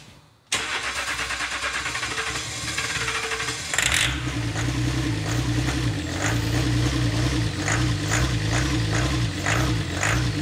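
A rebuilt Range Rover Sport engine cranks over and over without firing, the starter whirring in a rapid rhythmic churn after a short click, loud and close for about ten seconds with no voices.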